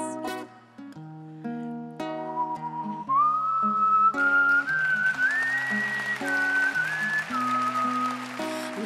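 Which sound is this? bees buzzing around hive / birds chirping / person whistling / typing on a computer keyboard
person whistling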